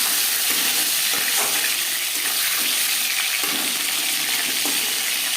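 Marinated bhola fish slides into hot refined oil in a wok, giving a steady loud sizzle and crackle that runs continuously with faint stirring scrapes.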